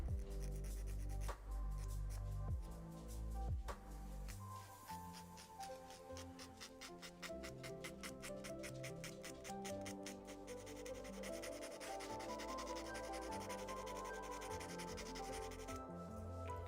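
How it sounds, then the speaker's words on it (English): Sandpaper rubbing on a plastic part of a Warhammer 40K Land Raider model, a fast, steady rasping scrape with a few louder knocks at the start, close and continuous. "I'm gonna sand this down."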